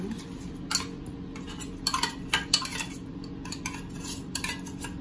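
Canned tuna goes into a salad as metal utensils scrape and clink against a bowl in a string of quick, light strokes over a soft steady background hum.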